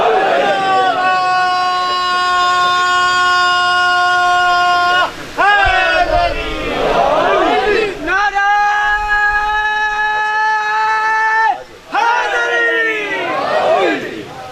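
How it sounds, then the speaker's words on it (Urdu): A crowd at a Muharram majlis in Kot Bela, Gujrat, shouts slogans in loud, drawn-out unison calls. Several rounds are split by short pauses. "بہت بڑے نعرے مارو سارے."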